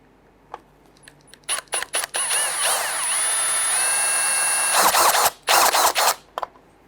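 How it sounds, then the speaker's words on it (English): A power drill whines up to speed and bores out rivets on a 1997-2006 Jeep Wrangler during fuel pump replacement, steadily for a couple of seconds, preceded and followed by short trigger bursts and clicks, close by. "I'm going to drill out the rivets."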